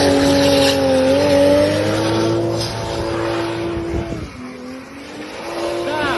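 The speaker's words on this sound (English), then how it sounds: "Also doing donuts in Toyota Supras." Toyota Supra spinning donuts, its engine holding a steady high drone while the tires squeal continuously, the pitch dipping briefly midway before climbing again.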